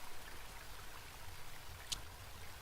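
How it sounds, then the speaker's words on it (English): A flowing river in the video game Home, a soft steady wash of water running continuously at low volume, with one brief sharp click partway through. "Ah, there's the river."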